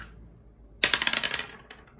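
A handful of dice from an art-supplies collection clatter onto a hard surface, an initial sharp impact followed by a quick series of rattling bounces that die away, close and fairly loud with no talking.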